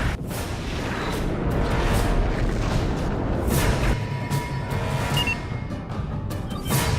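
A Borg cube explodes in the space combat game Star Trek Legacy, a loud rumbling boom with sustained roaring blasts that slowly thin out.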